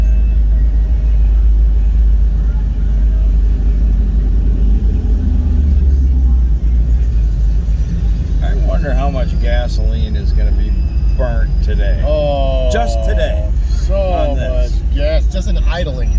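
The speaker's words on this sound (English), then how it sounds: "Listen to that thing. It's idling." A Chevrolet Corvair air-cooled engine idles with a steady low rumble throughout, with a voice talking over it in the second half.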